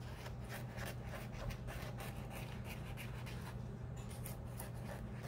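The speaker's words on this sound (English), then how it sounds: "So what I'm gonna do is I'm gonna draw right on top of this." A pen draws across an art journal page with quiet, continuous scratchy strokes in quick short bursts, close and soft, with no talking.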